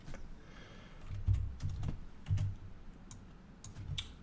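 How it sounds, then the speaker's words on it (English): Fingers typing on a computer keyboard, quiet, irregular keystrokes and soft clicks with short bursts and pauses, no talking. "I'm typing from Twitter."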